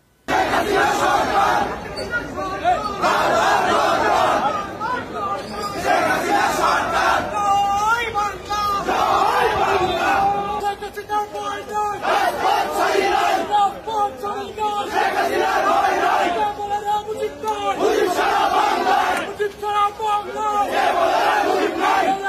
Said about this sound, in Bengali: এই জন্যই আদালতে আর স্লোগান ওঠে হাসিনার পক্ষে।